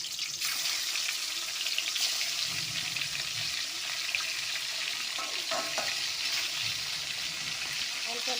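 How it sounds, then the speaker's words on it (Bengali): Khoka satin fish sizzles steadily in hot oil, a dense continuous frying hiss with occasional soft clinks of a utensil, close and fairly loud with no talk. "তেল গরম হয়ে গেছে, মাছগুলো একটা করে দিয়ে দেবো।"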